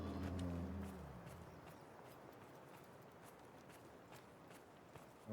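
Faint, quick footsteps of a character running in the video game Delta Force patter at a distance in a steady rhythm over a low background hum, with a brief low rumble at the start.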